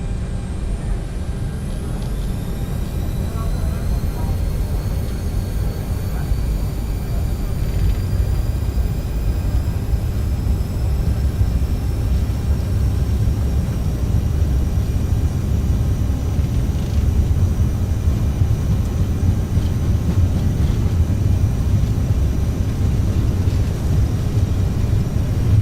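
Twin rear-mounted jet engines of an Aerosoft CRJ-900 in Microsoft Flight Simulator hold a steady, loud roar at takeoff power during a nighttime departure, with a dense low rumble and a faint rising whine throughout.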